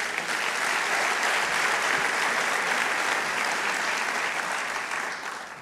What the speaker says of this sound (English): Let's give a big hand of applause to this global Clinton Global Initiative.